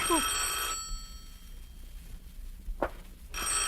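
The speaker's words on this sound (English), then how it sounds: "The phone." A telephone bell rings in two bursts, one at the start and another near the end, separated by a quiet indoor pause with a brief voice in between.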